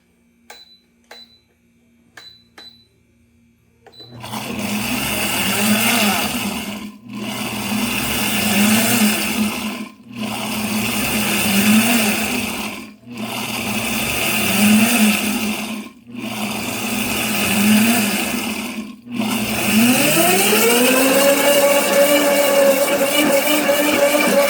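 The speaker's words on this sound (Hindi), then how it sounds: "अब हम जो है चिल्ड ऑयल इसमें डालेंगे, थोड़ा थोड़ा ऑयल इसमें शामिल करेंगे और साथ में अपने ब्लेंडर को चला लेंगे" A blender runs in five loud bursts with brief pauses between them, whirring garlic with chilled oil into toum, a thick Arabic garlic sauce. A final longer run follows after a few faint clicks at the start.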